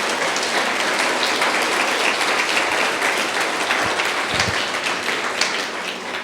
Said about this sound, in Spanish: Dale un fuerte aplauso a Dios por esta palabra.